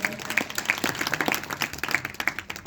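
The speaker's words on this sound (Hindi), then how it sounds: "एक बार जोरदार तालियां बजा दीजिए।" Audience applause at an Arya Samaj Vedic bhajan gathering, a steady wash of many hands clapping with scattered sharper claps, moderately loud and continuous throughout with no talking.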